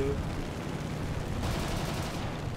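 Incendiary machine gun fire from an aircraft in the War Thunder combat flight game makes a continuous dense rattling roar of rapid shots, loud and unbroken throughout, with the sound thickening partway through.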